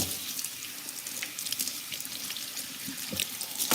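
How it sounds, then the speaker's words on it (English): Running tap water pours steadily into a kitchen sink as a cutting board used for chopping aromatics is rinsed underneath, a continuous close hiss of flowing water with small splashes and no talking. "So I'm just washing off my cutting board"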